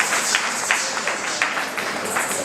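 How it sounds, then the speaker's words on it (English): Applause from an audience at a public forum on mental health stigma in Tamale, with a steady wash of clapping from many hands across the moment at moderate distance and loudness. "shall you give a round of applause for yourself?"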